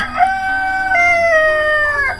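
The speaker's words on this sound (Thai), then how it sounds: "เสียงไก่ขัน" A rooster crows once in a rural Ta Oi village in Laos, a long, loud, drawn-out call held for about two seconds, close by and clear with no talking over it.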